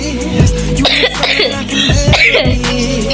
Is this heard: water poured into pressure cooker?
no